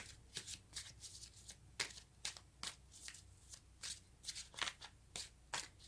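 Tarot cards riffle and slide in a quick series of soft, papery shuffles, close and quiet, with short pauses between bursts.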